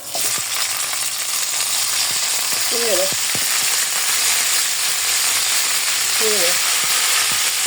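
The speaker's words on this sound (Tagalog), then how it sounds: "Prito lang natin. Konting prito." Marinated chicken pieces fry in oil with browned garlic in a pan, a loud continuous sizzle and crackle with occasional spatter pops and brief stirring clatter; a voice speaks briefly over it.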